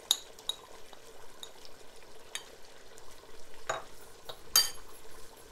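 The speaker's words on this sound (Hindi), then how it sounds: "ये देखिए अब इस स्टेज पर मैं इसमें शामिल कर दूँगी प्याज।" Crushed onion being stirred into tender cooked goat mutton in a korma pot, with soft, sparse scrapes and clinks against the vessel over a faint sizzle, no voices.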